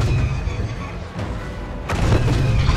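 Laser blasts and heavy booming shots from AT-ST walkers in the Star Wars Battlefront 2 game, a dense rumbling barrage that swells louder near the end, with a player talking over it.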